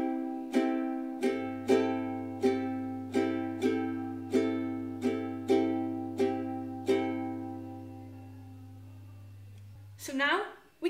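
Ukulele chords from a song strummed with steady single downstrokes, about eleven even strums ringing clearly, a low steady hum underneath, then a brief voice at the end.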